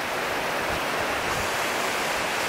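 A river near Sedona, Arizona rushes past in a steady, loud broadband wash of flowing water, close by and unbroken, with no voices.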